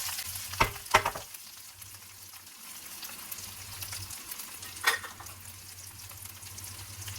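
Cut potatoes frying with cumin seeds and curry leaves for zeera aloo, a steady broadband sizzle throughout with a couple of sharp clatters near the start, a spoon stirring the pan, and a low hum underneath.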